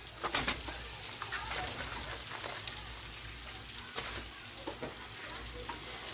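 Diced onion and cabbage sizzling softly in a frying pan, with occasional clinks and scrapes of stirring and a dove cooing faintly in the background.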